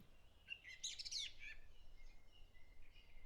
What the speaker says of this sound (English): we begin to hear the songs of the first early birds.